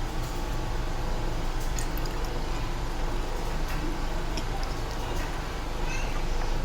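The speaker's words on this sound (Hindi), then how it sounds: "मैं तेज़ ठंडा पानी डाल दूँ" Cold water pours into a large glass for phalsa sharbat with a steady, close, continuous rushing splash and a few light clinks along the way.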